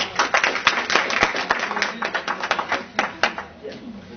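Audience clapping after a guest is welcomed at a project event, a dense run of sharp claps that thins out toward the end, with some voices mixed in.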